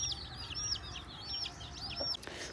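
Chickens and chicks cluck and chirp in quick repeated calls, with a rooster among them, fairly close against a quiet background in a village.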